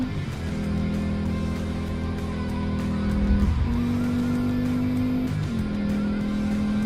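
Racing cars in the DownTown Club video game, a steady engine drone whose pitch holds and then jumps with gear changes, with a continuous close engine note and no talk.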